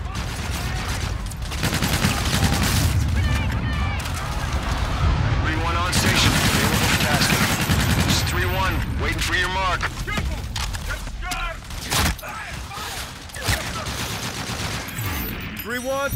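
Heavy gunfire and artillery-like booms fill a Call of Duty: Infinite Warfare battle, loud and continuous with bursts of rapid shots, while radio voices talk over the fighting.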